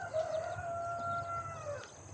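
A rooster crows once in a long, drawn-out call over a low background murmur, with faint clucking around it.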